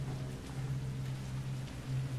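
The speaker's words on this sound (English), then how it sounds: "Here comes the rain." Rain in Resident Evil: Revelations 2 falls as a steady, soft hiss across a low rumbling backdrop, with no voices.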